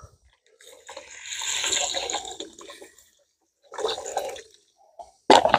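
Filtered water being poured into a pot for rice cooked on a barbecue grill, giving irregular close splashing and trickling bursts with short pauses between, ending in a sharp clatter.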